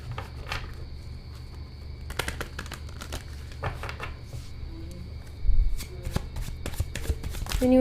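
Tarot cards are shuffled close by in bursts of crisp riffling and slapping clicks, with soft talking in the background.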